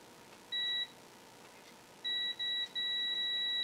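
High electronic beeps from a continuity tester checking Amiga 1200 circuit board repairs: one short tone, a pause, then two quick beeps and a long sustained tone, close and clear.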